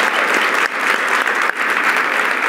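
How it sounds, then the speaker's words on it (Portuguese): A talk-show audience breaks into loud, dense applause, a close and continuous wash of many hands clapping that dips briefly twice before carrying on strongly. "Uma salva de palmas."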